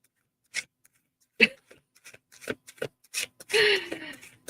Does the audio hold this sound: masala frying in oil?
no